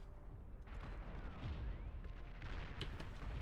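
Sniper units firing in the Beyond All Reason strategy game, sharp distant cracks and booms over a rumbling battlefield backdrop, fairly faint overall.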